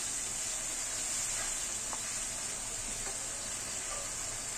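Mustard paste fries in a pan with a low, continuous sizzling hiss and a few soft stirring taps. It stays fairly quiet and steady, with no voices.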